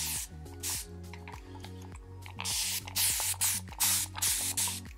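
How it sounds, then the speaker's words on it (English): A spray bottle mists water onto curly hair in a series of short, close, hissing bursts with brief pauses between them, interspersed with faint wet squishing, no talking. "I'm going to wet all of my hair."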